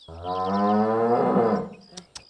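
A buffalo bellows in one long, loud, close moo that swells and fades over about two seconds, followed by a couple of short knocks.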